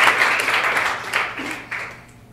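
An audience at an Ember.js NYC tech meetup talk in April 2013 applauds, a dense wash of clapping that swells briefly then gradually fades.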